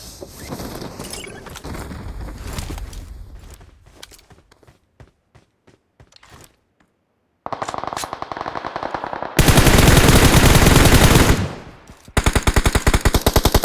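Rapid automatic gunfire from the battle-royale game BGMI (PUBG Mobile), with dense bursts, scattered single shots and a long sustained volley, some close and loud, others more distant.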